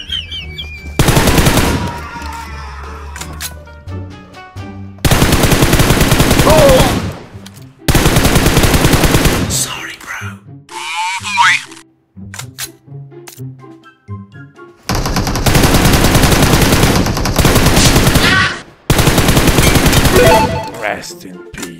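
Bursts of rapid automatic machine-gun fire in the shooter game PUBG, loud and near, in several long volleys separated by short pauses, with a brief tonal game sound in between.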